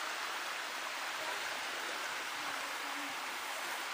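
Continuous broadband rush of falling water, steady and fairly distant, like a waterfall pouring without pause, with people bathing nearby, near Lazarevskoye, Russia.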